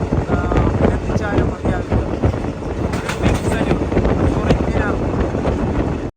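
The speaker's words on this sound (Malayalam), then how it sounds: "ട്രെയിൻ ഇപ്പോൾ അനന്ത്നാഗ് സ്റ്റേഷനിലേക്ക് എത്തിയിരിക്കുകയാണ്" Train pulling into Anantnag station in the Kashmir Valley, with a steady loud rumble and wind buffeting throughout, broadband rail and wind noise filling the whole stretch, with a voice talking over it.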